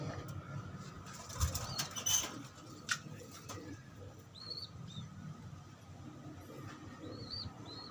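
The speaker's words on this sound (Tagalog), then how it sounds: "Kunin natin yung isa kalapatids." A tippler pigeon beats its wings in a few brief, quiet flurries as it is handled, close by over a faint outdoor background.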